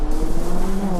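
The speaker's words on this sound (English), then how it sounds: "Rev it up, rev it up." A race car engine revs hard at a club rally event, a loud steady drone holding close and constant for about a second with no voices over it.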